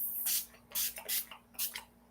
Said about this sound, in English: Now, with our priming spray,